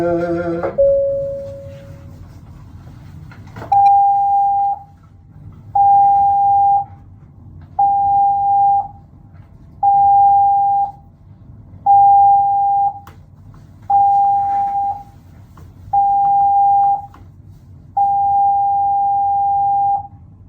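A cruise ship's general emergency alarm sounds on the Carnival Conquest as seven short whistle blasts and a final long blast, loud and evenly spaced, following a brief opening tone.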